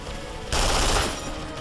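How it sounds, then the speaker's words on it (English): Gunfire in Duke Nukem Forever: a dense, loud burst of rapid shots swells in the middle and then eases back into a thick, noisy background of game sound. "I guess I should just start shooting them now."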